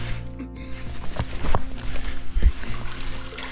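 Water pouring and trickling from a spring into a tank outdoors, a close, uneven splashing flow with a few louder bumps and splashes.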